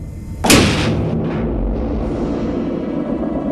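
A wartime submarine fires a torpedo: one sudden heavy boom with a sharp onset, then a long rumbling, hissing decay that fills the rest of the moment, loud and close.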